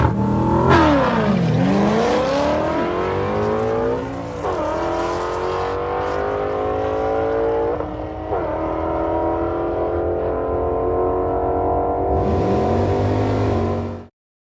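A 500 hp Coyote-swapped pace car launches hard at the drag strip, its V8 revving up through the gears loud and close in a long rising roar, then cutting off abruptly.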